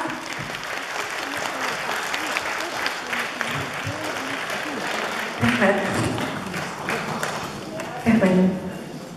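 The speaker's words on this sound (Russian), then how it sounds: "Это вам аплодисменты наши от нас." An audience at a Tatar ensemble concert in Kolomna claps steadily in a sustained round of applause, while a person speaks over it with louder bursts near the end.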